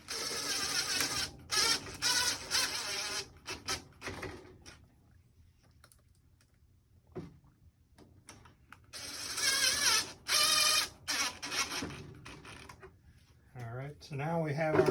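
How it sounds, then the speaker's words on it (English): Screws being driven into a homemade aluminum table divider, heard as fast mechanical clicking and ratcheting in short bursts separated by quiet pauses, with someone talking at times. "We'll put the screws in there."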